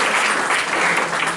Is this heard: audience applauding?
yes